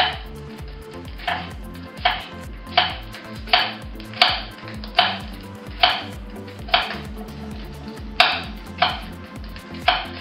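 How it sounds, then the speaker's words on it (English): Knife slicing apple quarters on a cutting board for apple cinnamon oatmeal, giving about a dozen crisp, evenly spaced chops that ring close and clear over faint kitchen background noise. "I have this half that I've cut into 2 quarters, and I'm going to slice it like this"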